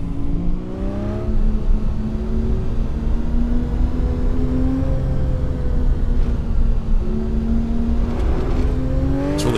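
A car climbs the winding Irohazaka road in Nikko, Japan, its engine droning steadily close by and its pitch rising and falling with shifts in speed and gear, with no voices.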